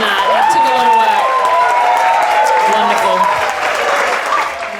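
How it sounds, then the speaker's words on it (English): Guests at a wedding reception at Albert River Wines on the Gold Coast break into steady, fairly loud applause with some cheering, while a voice speaks over it. "Can we give our beautiful Mr. and Mrs. Berry a round of applause?"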